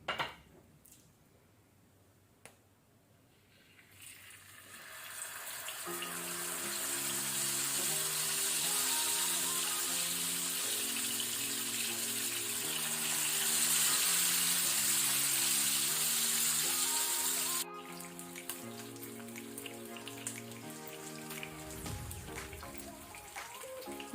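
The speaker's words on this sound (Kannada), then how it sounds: "ಈಗ ಇಲ್ಲಿ ಮೀನು ಒಂದು ಸೈಡ್ ಫ್ರೈ ಆಗಿದೆ" Kane (ladyfish) fish frying in hot oil over a medium-high flame, with a loud, steady sizzling hiss that swells and then drops off sharply, while music plays underneath.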